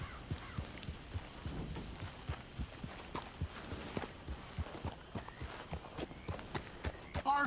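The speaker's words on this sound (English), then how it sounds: "get that horse out of here!" Steady clip-clop of horse hooves walking at an even pace in the video game Red Dead Redemption 2, close by, with faint background noise and no talking.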